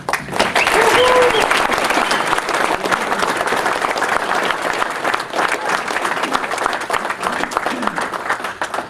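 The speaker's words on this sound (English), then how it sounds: "let's give them a good round of applause" A school meeting audience gives teachers a hearty round of applause, a loud, dense wash of clapping that holds for nine seconds, with a brief voice audible near the start and the ovation tapering slightly toward the end.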